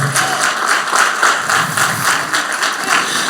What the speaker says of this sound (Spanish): Eso merecía un aplauso del Señor